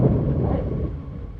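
Thunder rolls in a single low, heavy rumble during a storm, loud at first and slowly fading.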